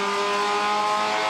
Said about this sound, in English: Keep a listen out for that really aggressive throttle that I was talking about through turn one